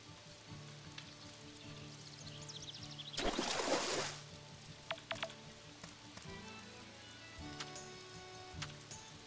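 Rain falls in the farming game Story of Seasons: a soft hiss that swells into a loud, sizzling downpour for about a second over steady background game music, with no talking.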